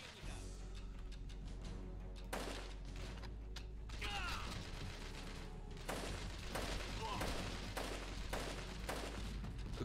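Gunfire in the video game Chernobyl Commando: several sharp shots in quick bursts, loud and close, over a steady droning game background with mechanical clatter between them.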